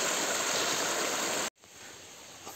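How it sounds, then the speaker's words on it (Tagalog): Water streams steadily along a mountain trail near Dinagsaan Peak, a dense close rushing that cuts off abruptly partway through, leaving a quieter outdoor background. "Palaging dumadaloy ang tubig dito."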